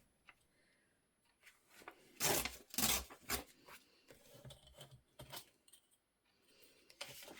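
Decorating material torn by hand for a flat craft piece, heard as a few close, crisp ripping bursts with papery rustles and handling noises between them, no voices.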